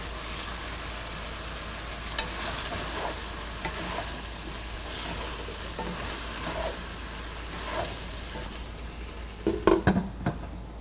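Aloo gobi of potato and cauliflower fries with a steady broadband sizzle while a utensil stirs it at intervals, soft scraping strokes rising through the cooking and a brief flurry of louder pan knocks near the end.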